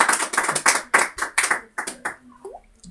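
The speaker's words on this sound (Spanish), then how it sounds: "Denle un aplauso al Señor, hermanos y amados." A church congregation claps in a loose rhythm, about a dozen close, sharp claps that taper off near the end, with no talking over them.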